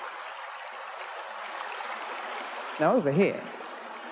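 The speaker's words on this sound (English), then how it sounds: "A water wheel. Now this water wheel is about 100 years old." Water streams steadily past a roughly 100-year-old water wheel that once powered a woollen mill, a continuous outdoor rush heard close by, with someone briefly speaking over it.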